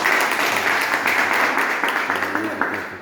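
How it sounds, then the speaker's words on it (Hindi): Loud, close applause from a gathered crowd of farmers at an organic farming meeting, rapid overlapping hand claps that stay strong throughout with a few voices faintly underneath. "उसके लिए ताली भी बजा दीजिए सर आप लोग।"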